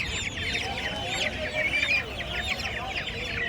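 Several native chickens cluck and squawk continuously, close by at a poultry market in Chandapur, a busy overlapping chatter of hen calls against a low background noise.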